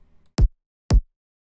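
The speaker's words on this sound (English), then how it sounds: "I'm just doing some warm tape saturation to it." Two punchy kick drum hits from a sample treated with warm tape saturation from the Saturn 2 plugin, sounding about half a second apart, each a short sharp thump with a deep decaying boom, alone against silence.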